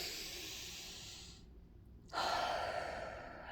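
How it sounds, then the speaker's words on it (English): A slow, deep breath drawn in through the nose, a brief quiet pause, then a louder breathy exhale out through the mouth, close and alone without speech. "In through your nose, out through your mouth."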